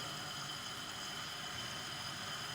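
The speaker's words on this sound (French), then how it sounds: "j'attends le bruit de la vapeur" A collagen face mask machine gives off a steady, broadband steam hiss, even and unbroken, at moderate volume with no talking.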